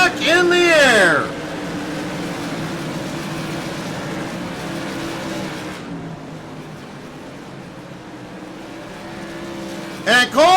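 Tour Modified race cars roar past at Hickory under green flag, a loud engine pass at the start, then a steady blended drone of the field circling, with another close car rushing by at the end.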